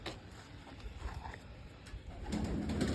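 A blue female pigeon coos softly in low, muffled calls over a steady background hum, faint and close, with no other clear sounds.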